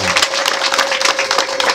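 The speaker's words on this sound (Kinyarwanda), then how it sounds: "Twemerere uyu mugabo kumuha amashyi rwose kuko yatumwe neza." A crowd applauds a performer at a live show, dense steady clapping throughout at close range, with a faint voice under it.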